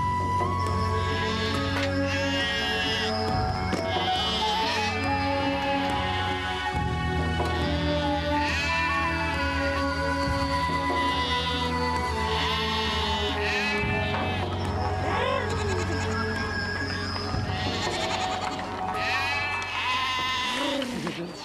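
A flock of sheep and goats bleats continuously and loudly, many overlapping calls near and farther off, with a voice talking over them.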